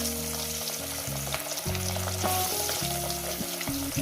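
Fish pieces for a fish curry frying in hot oil, a steady close sizzle with stirring that holds at an even level throughout, no voices.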